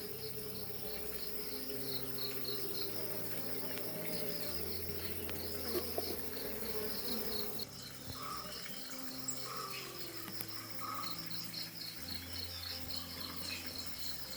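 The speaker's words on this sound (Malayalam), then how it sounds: "ഇത് കരിഞ്ഞൊടികൾ തേനീച്ചയാണ്. ഭയങ്കര കുത്തുള്ള സാധനമാണ്." Honey bees of the karinjodi type swarm around hive frames during monsoon care, making a faint, steady buzzing drone that stays constant throughout with no speech.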